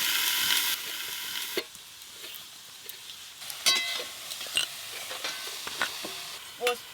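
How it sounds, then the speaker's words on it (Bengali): Cauliflower florets fry in a pan for cauliflower rezala with a steady sizzle at first, then give way to intermittent scraping and stirring clatter of a utensil against the pan, up close. "ফুলকপি রেজালার জন্য ফুলকপিগুলো বেশ ভালো করে ভাজতে হবে।"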